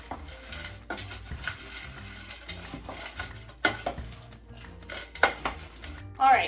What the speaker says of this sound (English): I'm going to give this all a stir and let it cook for about 2 minutes